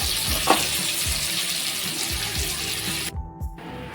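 Rawas fish curry, a Maharashtrian-style rassa, boils in a pan with a steady close-up bubbling hiss that runs continuously, then briefly thins out near the end.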